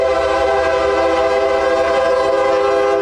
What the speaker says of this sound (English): the train will slow down and stop at the Pendergrass Yard